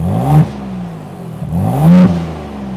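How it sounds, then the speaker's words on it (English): A Ford Bronco Raptor engine revving in normal mode with two short blips of the throttle, each rising in pitch and falling back to a loud, close idle rumble. "this is a little rev and normal"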